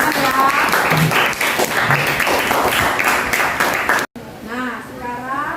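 A classroom group claps steadily for about four seconds as a dense, even patter, then stops abruptly, and a voice follows.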